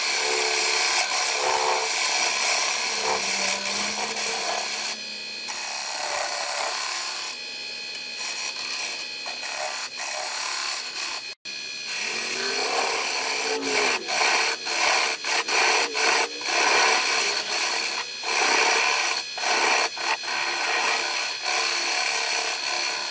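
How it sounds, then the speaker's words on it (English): Mesquite bowl spinning on a wood lathe at 500 RPM while a half-inch round nose gouge shapes the foot, giving a steady, loud scraping and rasping cut with brief pauses and sharp catches throughout. "I'm going to use a 1/2 inch round nose to shape the foot."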